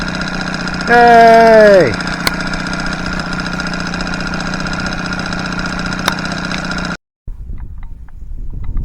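Outboard boat motor on a transom bracket idling steadily just after starting with the choke out, close and loud with a brief shout over it early on, then cutting out suddenly near the end.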